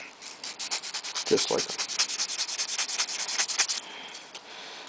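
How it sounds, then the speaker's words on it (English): A metal ring's surface is rubbed by hand with 600 grit sandpaper in quick, rhythmic back-and-forth strokes, a steady close scratching that stops abruptly, with a brief spoken phrase partway through. "I take 600 grit and a little bit clean surface of what I done"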